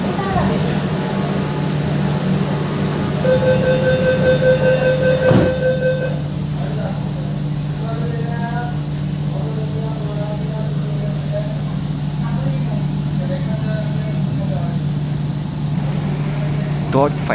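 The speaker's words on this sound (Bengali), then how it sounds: "5:30 PM মেট্রো ছাড়লো শিয়ালদা থেকে" A Kolkata East-West Metro train pulls out of Sealdah underground station, a loud steady low hum with a rising electric motor whine running through it and faint voices in the car.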